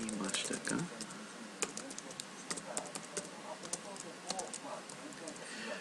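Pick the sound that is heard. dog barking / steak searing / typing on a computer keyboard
typing on a computer keyboard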